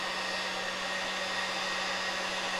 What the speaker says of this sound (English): so let's heat this up again. This is a super duper old blow dryer